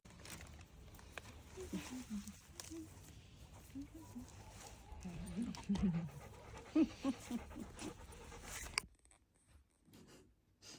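A dog panting and playing close by indoors, quick soft breaths and scuffling patter at moderate volume, with faint rustling, ending in near silence.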